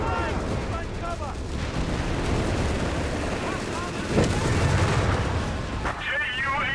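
Sten submachine gun fire amid a Company of Heroes 3 match, a steady din of battle gunfire with a louder burst near the four-second mark, continuous throughout with a commentator's voice faintly mixed in.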